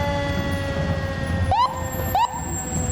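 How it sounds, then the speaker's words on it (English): Two quick rising siren whoops from a fire truck at a parade, sounding about half a second apart over a steady engine hum. "giving us a shout out with the bells and whistles"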